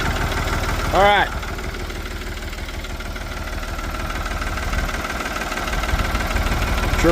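A small engine idles steadily with a low, even rumble throughout, interrupted early by a brief rising tonal chirp.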